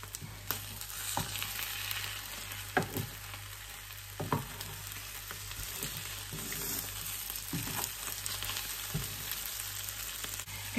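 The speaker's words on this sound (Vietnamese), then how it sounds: "ai thích ăn thật giòn đó thì là mình chiên cho nó vàng thật đều đó" Food frying in a pan at a home kitchen, cooked until evenly golden and crispy; a steady oil sizzle runs throughout, with occasional sharper clicks and spatters from stirring, close and moderately loud.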